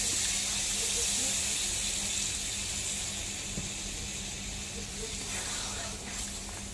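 Water is poured into a hot pan of fried peanuts for a potato and snake gourd curry, a continuous loud hiss and sizzle that holds steady throughout, fading slightly toward the end.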